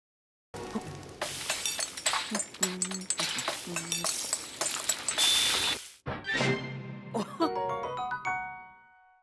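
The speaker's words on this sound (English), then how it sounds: "Grab a spoon and dig in." A spoon clinking against a bowl of creamy heart soup in Zelda: Breath of the Wild, with a run of bright metallic clinks and chimes, then a ringing, rising jingle that fades out.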